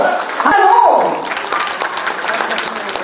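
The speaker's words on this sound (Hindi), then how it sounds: "श्री हेमंत सोरेन जी की जोरदार तालियां हो" Applause rises at an appointment-letter ceremony in a ministry hall where the Chief Minister hands over letters to dentists and medical officers; the clapping is brief and moderately loud, with an announcer's voice over it at the start.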